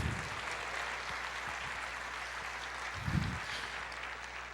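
A church congregation claps and applauds during a sermon, a soft, distant wash of applause that swells briefly, with no clear talking over it.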